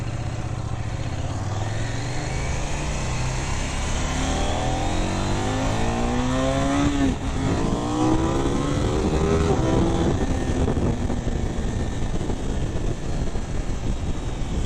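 A 2026 KTM 990 RCR motorcycle engine pulls steadily while riding, with rising and falling revs sweeping through gear changes, loud and close throughout with constant wind rush.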